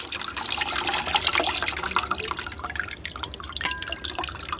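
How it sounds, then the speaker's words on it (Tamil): Tamarind water trickles and drips steadily as it is poured through a strainer for rasam, a continuous wet splashing with occasional small spatters, close by and fairly loud. "தண்ணியாக புளி தண்ணி மட்டும் நம்ம அப்படியே ஃபில்ட்ரு பண்ணி எடுத்துக்கிடுவோம்."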